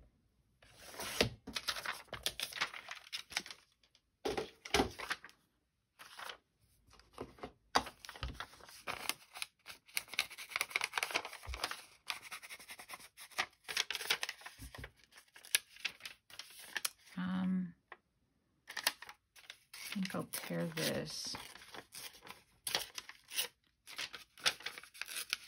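Paper being cut with scissors for a collage weekly planner, heard as close, quiet snips and crinkly rustles in short bursts with pauses between them, no talking.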